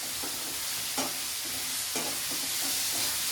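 Onions frying in a pan for kuruma give a dense, close hiss of sizzling oil, punctuated at regular intervals by the scrape and knock of stirring.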